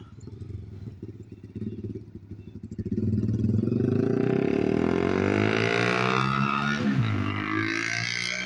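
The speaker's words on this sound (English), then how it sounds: "Little 4-stroke crotch rocket." A small four-stroke sport motorcycle heard nearby: low idle burbling for a few seconds, then a loud rise as the revs climb into a sustained, high, rasping whine before easing slightly near the end.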